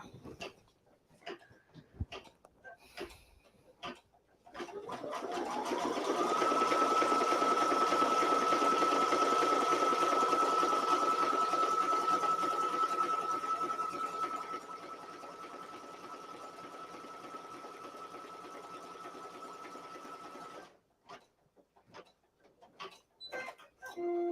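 An embroidery machine stitches a single line across fabric held in the hoop for a beginner in-the-hoop pencil zipper pouch, a steady mechanical whirring hum that starts after some handling clicks, then settles quieter before stopping.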